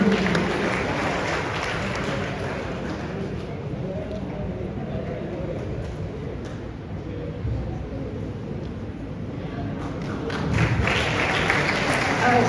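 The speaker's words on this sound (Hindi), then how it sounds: "एक बार जोरदार तालियां हो जाए" Sustained audience applause in a college auditorium as a postman receives an award, dense and even throughout, swelling slightly near the end, with murmuring voices underneath.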